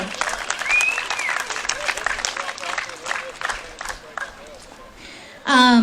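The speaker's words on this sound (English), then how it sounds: "give all of yourselves a round of applause for being here today" Crowd applause at a no-mask freedom rally in Lincoln, a dense patter of many hands clapping with cheers and a few voices mixed in, swelling at the end.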